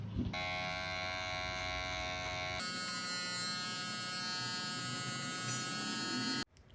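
An electric hair clipper cutting hair for a short military-style haircut, a steady close buzzing hum that shifts pitch as it moves through the hair, then stops abruptly near the end.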